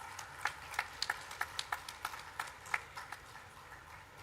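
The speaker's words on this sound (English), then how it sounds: "can we have a huge round of applause?" Sparse, scattered hand claps from an audience at the IDF WDS 2022 animal health event, faint and somewhat distant, coming as a short run of separate claps rather than a full ovation.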